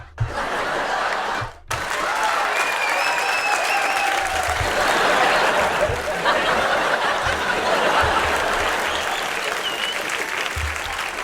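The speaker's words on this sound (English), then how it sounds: "I also put some applause in there on the other deck so I can control when it comes in and out." Applause samples played through a synth patch in Native Instruments Komplete Kontrol, a loud, sustained crowd applause that cuts out briefly near the start, then returns with occasional chuckles and laughter mixed in.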